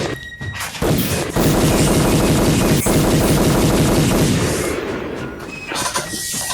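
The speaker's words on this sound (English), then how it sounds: "is going to do a 21 gun salute" Rifle volleys of a 21-gun salute at a memorial service ring out loud and close, a dense burst of rapid shots lasting several seconds before fading into a brief tail.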